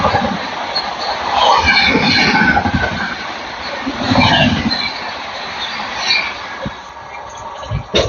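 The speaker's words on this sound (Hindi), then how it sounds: "तो भाई सामने से आ रही है ललितग्राम पटना राज्य रानी 130 में भाई साहब" Lalitgram–Patna Rajya Rani express train rushing past at about 130 km/h, a loud, continuous roar of wheels and carriages with rhythmic surges as coaches go by, fading slightly near the end.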